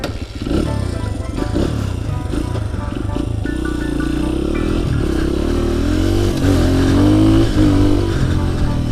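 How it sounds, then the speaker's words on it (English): A motorcycle engine drones loud and close while being ridden, holding a steady throbbing note that rises in pitch toward the end as it accelerates, with wind rumble throughout. "Let's go ahead and hop on the bike and see how they perform."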